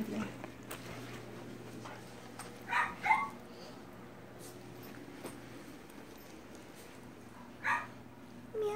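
A dog gives a few short yips and whimpers, faint and spaced apart over a steady background hum, with people talking nearby.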